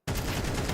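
Counter-Strike gunfire during a professional esports match, a sudden dense burst of rapid loud shots that starts abruptly and fills the whole short moment.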